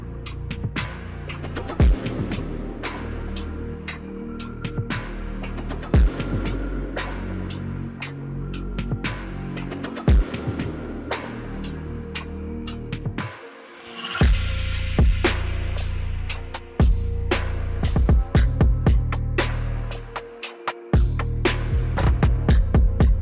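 Hair clippers fitted with a half guard, lever open, cutting hair during a self-haircut, a steady close electric motor buzz with clicks and brief drops as the clipper moves and pauses, no speech.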